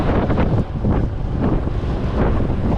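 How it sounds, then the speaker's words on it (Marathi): Sea waves slap against a fishing boat heading out for pomfret off Mumbai. A steady roaring wash of water is heavily buffeted by wind noise throughout, with no talking. "माझ्या पाठीमागे तुम्ही बघू शकता लाटा कशा बोटीवरती मारा करतात"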